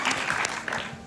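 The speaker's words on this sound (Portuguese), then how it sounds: "Uma salva de palmas." A studio audience on a Portuguese television quiz show gives a brief, moderately loud burst of applause that fills the room without any talk over it.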